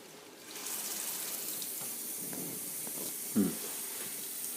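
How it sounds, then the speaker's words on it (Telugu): A tap runs at a sink while a child brushes his teeth, giving a steady, quiet hiss of flowing water with a brief soft knock near the end. "నీళ్ళు వస్తున్నాయి కదా"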